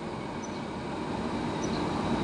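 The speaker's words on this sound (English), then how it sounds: "Me waiting for the train to pass." A train rolls past close by as a steady, loud rumble of rail noise with faint squeals of wheels on track, continuous and unbroken throughout.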